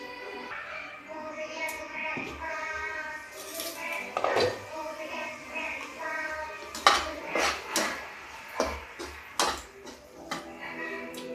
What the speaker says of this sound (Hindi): देखिए इसको ढक देते हैं